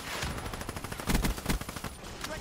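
Rapid gunfire from a Weevil gun in a video game: a loud, punchy burst of repeated shots with heavy, booming recoil thumps clustered in the middle, with no talking.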